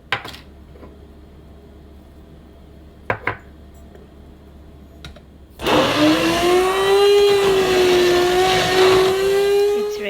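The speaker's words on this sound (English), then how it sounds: "add the rest of the ingredients: feta cheese, crushed chili peppers, paprika and olive oil," A blender purees feta cheese, crushed chili peppers, paprika and olive oil into a dip, starting after a few quiet clinks and knocks and then whirring loudly and steadily with a slowly shifting motor whine.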